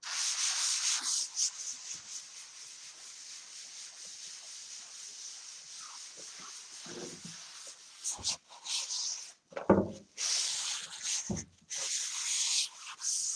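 Close, steady rasping of a medium 120-grit sanding sponge rubbed back and forth over a furniture piece, continuous strokes for several seconds, then a choppier passage with short pauses and a few soft knocks.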